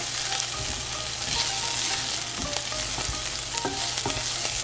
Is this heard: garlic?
yes